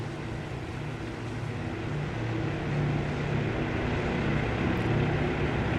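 Aircraft engines roaring in the naval combat game Task Force Admiral, a loud, steady, dense drone that swells slightly and runs throughout without pause. No voices.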